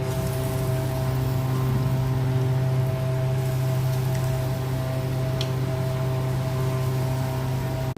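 Fuluri fritters frying in a pan of hot oil, giving a steady, dense sizzle that holds evenly throughout with a low background hum and no talking.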